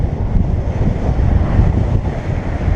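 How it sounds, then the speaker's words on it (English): A loud, steady rush of wind buffets the microphone while cycling on a tour in Taiwan, a continuous low roar with no gaps. "every now and again you get a gust like that that slows you right down"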